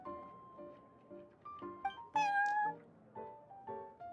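A cat meows in Genshin Impact's Cat's Tail card tavern, a string of soft, short meows with one louder, drawn-out mew in the middle, close and clear with no talking.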